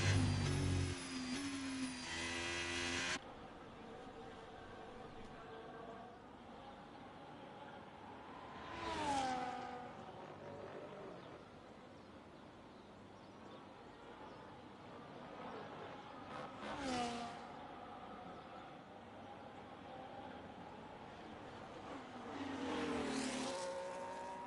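An F1 car's engine howls on an onboard lap in a video game at the Japan circuit, revving through gear changes with periodic high whooshing passes, fairly faint and continuous.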